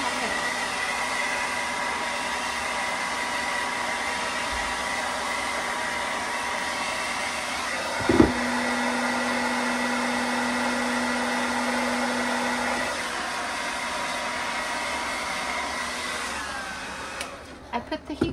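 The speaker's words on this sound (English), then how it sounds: "I just get my hair dryer, any kind of heat source" A hair dryer blows with a steady whirring roar that holds throughout, briefly changing pitch partway, before clicking off near the end.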